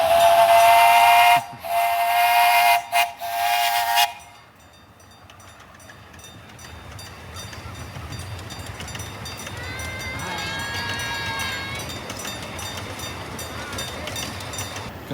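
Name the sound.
amusement park train passing with steam whistle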